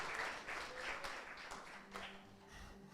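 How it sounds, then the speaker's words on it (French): A church congregation claps during a bilingual German and French sermon, soft, fairly distant applause with some murmuring voices mixed in, fading slightly toward the end. "Wir applaudieren für den Herrn."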